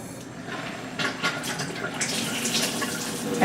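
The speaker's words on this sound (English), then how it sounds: "you can change the water coming from your regular sink, whether to come out as the tap water or with just a switch up" Tap water running from a kitchen sink faucet through a switchable water adapter, a steady close rushing stream that grows slightly fuller over a few seconds.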